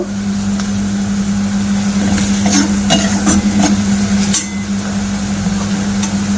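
A potato dough mixture with turmeric and chilli powder is stirred in a pan, producing loud, close scraping and clattering strokes over a steady sizzle and a constant low hum, with no voices.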